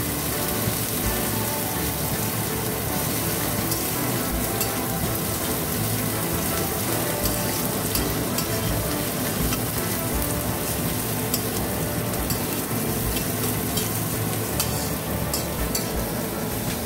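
Chopped onions and black cumin seeds fry in a pan, giving a steady close sizzle with continual scraping and stirring sounds, and no voices.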